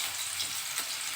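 Garlic for a dal tadka sizzles in hot oil in a pan, a soft, even crackling hiss heard up close with no talking.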